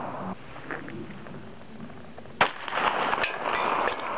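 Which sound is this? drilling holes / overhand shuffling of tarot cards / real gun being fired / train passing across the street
real gun being fired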